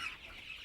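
A chicken on a Tiger-breed poultry farm gives a single short cluck at feeding time, faint and brief.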